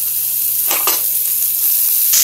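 Diced carrot and onion in olive oil in a hot pan give a steady, close sizzle, broken by a couple of short louder crackling bursts as the vegetables hit the oil and are stirred.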